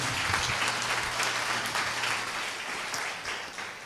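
Sustained applause from a church congregation at a Christian sermon, steady and dense throughout, with a faint low hum running underneath.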